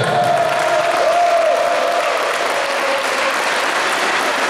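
Sustained audience applause at an award ceremony as the best goalkeeper prize is presented, a dense, even wash of clapping from a crowd that holds steady throughout.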